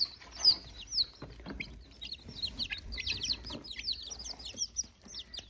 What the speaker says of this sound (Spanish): Ya el pollito dejó de chillar